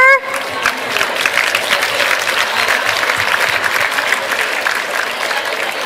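An audience at a customer advocacy business session applauds its speaker, dense clapping that starts abruptly after a brief voice and stays strong and even to the end.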